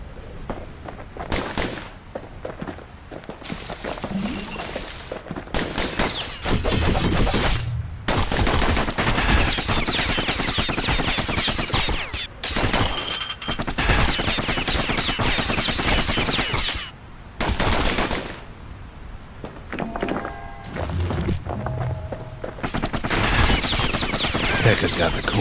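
Enemies in the action game Bastion keep up dense, rapid gunfire with almost no pause. The volleys stay loud and continuous, and a narrator's voice speaks over the shooting at times.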